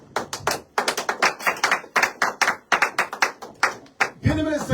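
Congregation clapping in acclaim during a Pentecostal church service, a run of loud, rhythmic hand claps filling the room, ending as a voice begins singing or calling out.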